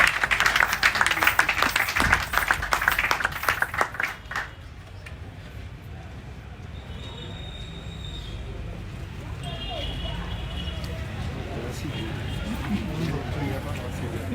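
A church congregation in Benin applauds God, loud, dense clapping for about four seconds before stopping abruptly into quiet room murmur.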